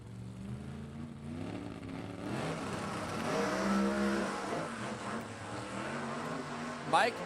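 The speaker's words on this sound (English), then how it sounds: "451 cubic inches of blown Brad Anderson Hemi on board from Mike Malaya" A supercharged 451-cubic-inch Brad Anderson Hemi funny car at an NHRA Hot Rod Heritage Series drag race, its engine roaring steadily under a commentator's continuous announcing.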